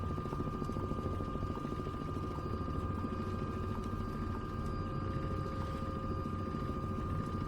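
A helicopter in Microsoft Flight Simulator 2024 cruises with a steady, unbroken rotor and engine drone. A constant whine sits over a dense low churn, heard alone throughout.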